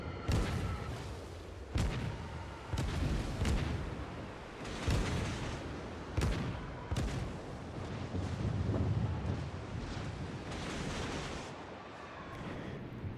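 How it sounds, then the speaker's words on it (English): Destroyer USS Sims launching torpedoes in World of Warships, a run of loud sharp booms and launch thumps spread across the clip over a steady rumble of wind and sea. "before I fire off some torpedoes"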